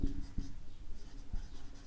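Chalk or marker writing on a board during an English grammar lesson, a few quiet taps and scratchy strokes at close range.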